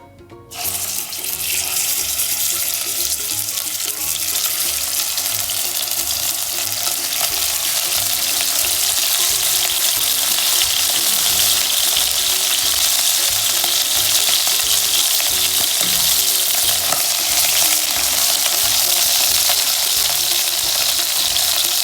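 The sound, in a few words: meat pieces frying in a pan for couscous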